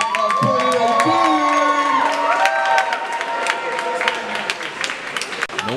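Crowd applause and cheering in a gym at a women's basketball game honoring seniors, loud with whoops and shouts, while a sustained tonal music or horn line plays beneath and fades as the clapping thins out.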